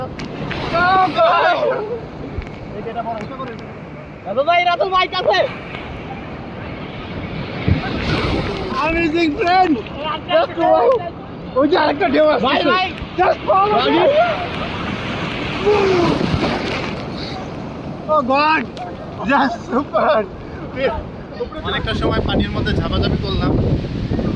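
Ocean surf at Cox's Bazar beach rolls and crashes in steady washes, mixed with wind noise on the microphone and overlapping voices of people talking and calling out nearby.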